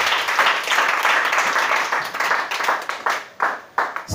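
A church congregation at an Easter service claps and applauds, a dense, loud burst of many hands that thins toward the end into a few separate claps.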